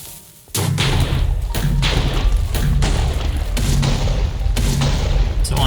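Repeated heavy thuds fire in quick succession, a volley of booming video game cannon shots firing sand projectiles over a constant game soundscape.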